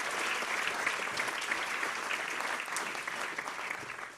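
An indoor audience at an F1 in Schools national final awards event in Australia applauds in steady, dense clapping that continues for several seconds at moderate distance, with faint talk underneath.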